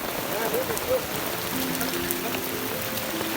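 Rain patters steadily on surfaces all around, a dense hiss with scattered louder drops, while a faint tonal hum and some distant voices sit underneath.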